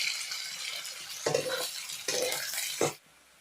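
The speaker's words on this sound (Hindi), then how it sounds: "लहसुन मिर्ची, प्याज, हल्का सा ब्राउन हो तो तब भूनना है।" Garlic, chilli and onion fry in a pan and get stirred in short bursts. The soft sizzle swells three times with each stir, then stops abruptly near the end, and no one talks.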